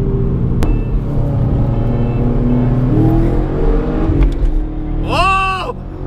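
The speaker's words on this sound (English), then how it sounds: "Lewis got the race car out." A race car engine roars loudly and close, its tone holding a strong steady drone that rises and falls as it revs, with a high whistling sweep near the end.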